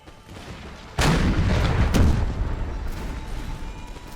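Cannon fire in the video game Imperial Splendour bursts out as two heavy booming blasts about a second apart over a low battle rumble, each decaying into a rolling tail.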